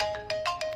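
A mobile phone ringtone in a Hindi-dubbed action movie sounds in short repeated electronic bursts over a steady tone, clear and close.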